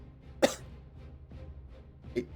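A single sharp cough into an elbow, close by and fairly loud, followed by quieter breathy sounds and a second smaller cough near the end.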